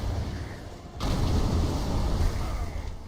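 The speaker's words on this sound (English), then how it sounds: "that explosion right there is what gets you" Explosion in the World of Warcraft Amirdrassil raid: a sudden deep boom that swells into a sustained rumbling blast under game noise.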